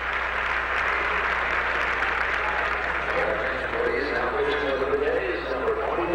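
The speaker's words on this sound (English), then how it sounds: "That's a tremendous ovation to Dennis Lamp" A baseball stadium crowd roars in a sustained ovation for a pitcher at Exhibition Stadium, a dense wash of cheering and clapping heard from a distance beneath a broadcast announcer's talk.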